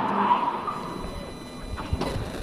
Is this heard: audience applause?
no